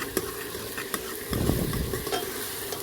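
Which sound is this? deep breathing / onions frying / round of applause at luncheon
onions frying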